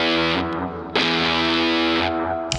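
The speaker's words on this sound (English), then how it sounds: "Embers Fuzz is a vintage style fuzz." Electric guitar through a Hamilton Embers Fuzz, a vintage-style fuzz pedal, sustains thick, buzzy chords with a bright hiss that swells and cuts back, loud and close without talk.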